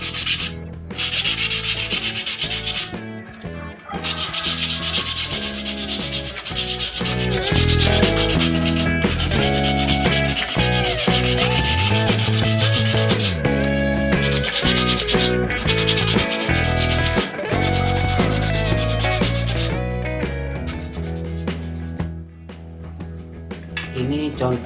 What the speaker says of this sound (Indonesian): seperti ini dengan manual, dengan amplas yang agak sedikit halus lagi daripada ini